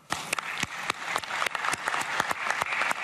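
A round of applause at an Arab summit as the Syrian opposition leader takes the seat reserved for Syria, dense steady clapping from a large audience with sharp individual claps standing out, building slightly over a few seconds.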